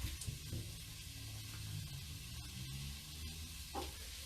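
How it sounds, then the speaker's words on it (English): Quiet, steady sizzling of food frying in a pan, a soft crackling hiss with a few faint clinks. "you should be able to hear that sizzling away."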